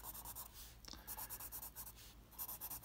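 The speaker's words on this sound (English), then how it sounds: "I'm just going to draw a keyboard really quick here" A pen draws a piano keyboard on paper, quiet scratchy strokes in short repeated bursts with a brief pause, close and soft with no talking.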